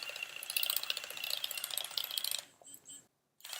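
A Nu Skin ageLOC LumiSpa facial device buzzes with a rapid ratcheting chatter while pressed too hard on skin, then stutters and cuts out to near silence before briefly resuming.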